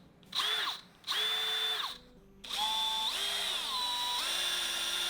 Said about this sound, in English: Back to the drill. Go slow this time.